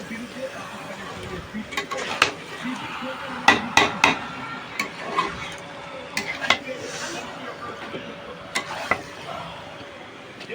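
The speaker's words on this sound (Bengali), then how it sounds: "আমি এক কড়াই চিকেন এখন রান্না করছি" Chicken cooking in a kadai after the spice paste has been fried down: sharp metallic scrapes and clanks of stirring, some close and loud, over a faint background of frying, with people talking nearby.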